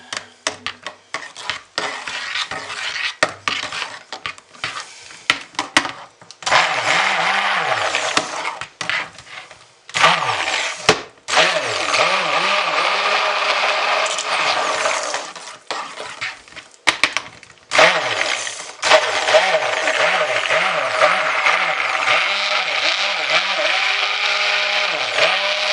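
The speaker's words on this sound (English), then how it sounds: "Especially if you add a stick blender to it." A stick blender whirs in bursts inside a container of soap batter made from soap scraps, alternating with stirring and scraping, wet mixing sounds close up.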